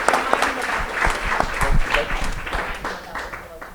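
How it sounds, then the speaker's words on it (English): Audience applause for the production team at a dance and emerging technologies artist talk, a steady patter of clapping from a room of people with voices mixed in, fairly close and sustained. "if you wouldn't mind joining me again to applaud our phenomenal production team"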